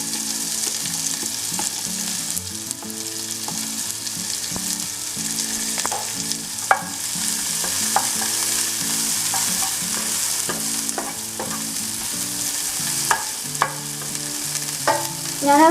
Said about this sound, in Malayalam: നമുക്ക് ഈ എണ്ണയിലേക്ക് തന്നെ കുറച്ച് സവാളയും കൂടി ഇട്ടിട്ടൊന്ന് വറുത്തെടുക്കാം.